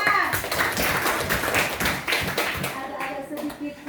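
A classroom of students clapping their hands together in a dense, lively burst of overlapping claps that lasts several seconds, with some voices mixed in.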